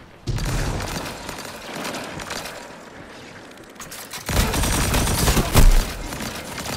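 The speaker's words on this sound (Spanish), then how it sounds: "Y con los modificadores, Cheiro, un disparo en la cabeza." Gunfire in the video game Destiny 2 comes in two loud bursts of rapid shots with booming impacts, a quieter stretch between them, and no voices.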